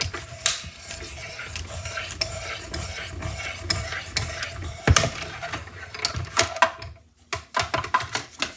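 A hand-cranked die-cutting machine runs a lined-up paper stack through, producing a continuous close mechanical grinding and clicking with sharper clacks and a brief pause near the end.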